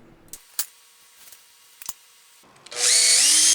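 Power drill boring pilot holes into 2x6 lumber for 2.5-inch construction screws, a loud sustained whirring burst at the end, preceded by a few faint clicks and knocks.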